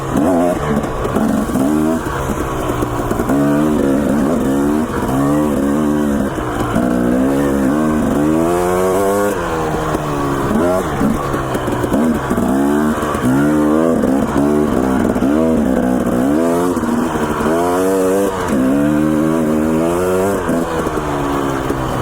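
A Husqvarna dirt bike engine drones steadily and loudly while riding through woods, its pitch rising and falling in repeated throttle surges, close and continuous with no talk.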